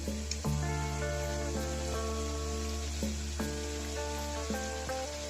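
Layered somas pastries deep-frying in hot oil for a Diwali batch, giving a steady, close sizzle and bubbling hiss throughout with a low hum and sustained tones behind it, no talk.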